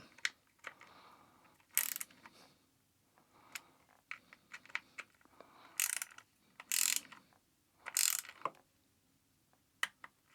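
Bolts on a Buell motorcycle are torqued down with a ratchet wrench during an oil change, producing quiet, close bursts of rapid ratchet clicking separated by pauses, with sharp metallic ticks between them.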